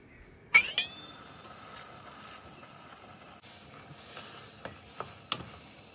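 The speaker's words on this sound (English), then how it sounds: "then stir them for 2 to 3 minutes." Mashed beans stirred in a pan for huevos rancheros: soft, close scraping and stirring, with a few sharper clicks and knocks from the utensil against the pan, fairly quiet throughout and no talking.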